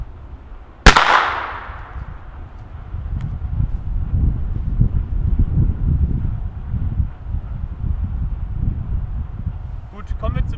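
A Weco firecracker goes off with a single sharp, loud bang near the start, its crack ringing briefly before a steady low outdoor rumble of wind fills the rest.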